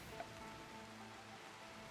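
Steady rain in the colony-building game Rimworld, a faint, continuous patter on surfaces with no talking.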